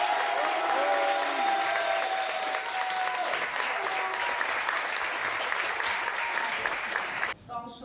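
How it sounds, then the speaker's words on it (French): Sustained applause from the audience at a hackathon, greeting the jury member from Salesforce at a Sunday afternoon event, loud and steady for several seconds before cutting off abruptly near the end. "Je vais d'abord vous demander un tonnerre d'applaudissements"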